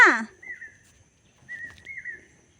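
A crow calls out near a farm with goats, giving a few harsh, drawn-out caws spaced through the moment, moderately close and standing clear of the quiet background.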